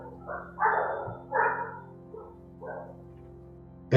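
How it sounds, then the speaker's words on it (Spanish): A dog barks in a few separated, moderately loud yaps and woofs in an office, over a steady low hum, with a sharp knock at the end. "¿Escucho un perro? Es su perro."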